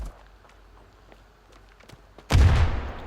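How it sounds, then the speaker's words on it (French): Grenade explosion in the mobile shooter Standoff 2 during a competitive match: one loud, close burst that cuts in suddenly after a quiet stretch of faint footsteps and game noise, then rumbles and fades over a second. "Énorme grenade qui vient de partir actuellement."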